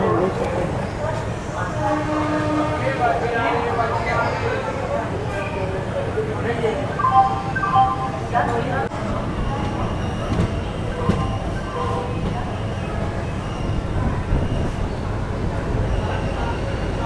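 Train on the Kapasan City–Ajmer line near Chittorgarh in Rajasthan, a steady low rumble and clatter running the whole time, with voices talking over it.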